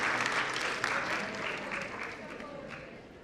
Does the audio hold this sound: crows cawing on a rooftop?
no